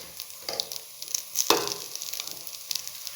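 Oil spooned around the edge of a pan of carrot rice, a soft hiss rising into a brief sharp sizzle with scattered pops, close but fairly quiet with no voices.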